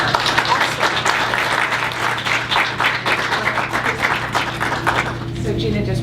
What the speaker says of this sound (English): How about a warm round of applause?